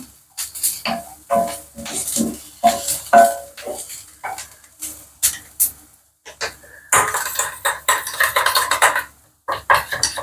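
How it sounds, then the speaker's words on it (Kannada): Chicken feet being mixed with ginger garlic paste in a bowl, heard as irregular clinks, scrapes and knocks of utensils against the bowl, close and stop-start, with short pauses between bursts. "ಇದಕ್ಕೆ ಜಿಂಜರ್ ಗಾರ್ಲಿಕ್ ಪೇಸ್ಟು ಹಾಕ್ಕೊಂಡು ಇವಾಗ ಕಲಿಸ್ಕೊಳ್ಳೋಣ ಬನ್ನಿ"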